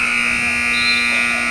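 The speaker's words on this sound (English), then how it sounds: "And that is the final buzzer" A steady electronic buzzer sounds at the end of a high school boys' basketball game, a continuous flat tone holding loud and unbroken over gym noise.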